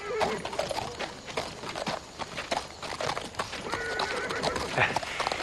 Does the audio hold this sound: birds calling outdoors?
no